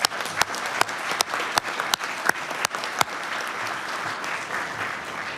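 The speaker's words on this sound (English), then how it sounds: "Maybe a round of applause for our special guests." Applause from a small audience at a city council inaugural meeting, a steady patter of clapping lasting several seconds with a few sharper claps standing out near the start.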